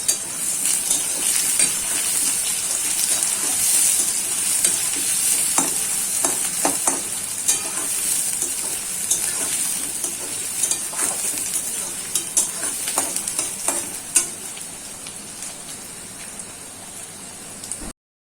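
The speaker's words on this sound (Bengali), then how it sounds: "দেখুন বন্ধুরা আমার পেঁয়াজটা ভাজা হয়ে গেছে" Chopped onions sizzling and frying in a pan for a Bengali prawn-stuffed pointed gourd dorma, a steady close crackle with occasional stirring scrapes, no talking.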